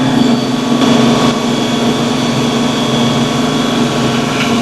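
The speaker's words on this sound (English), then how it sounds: "This tractor's not even struggling." A tractor drawing a five-bottom plow through a field gives a loud, steady, low engine drone with an even hum and no audible strain, alone without talk.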